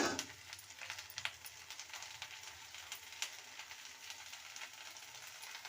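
Okra sizzling as it is sautéed in a pan for a tamarind curry, a soft, steady frying hiss with faint crackles and occasional stirring scrapes, quiet and close, with no talking.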